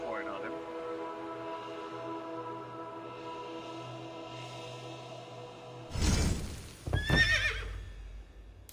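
In Assassin's Creed Valhalla, a horse gives a sharp whinny and snort over a steady tonal game music bed, followed by a second brief burst, near and fairly loud against quiet ambience.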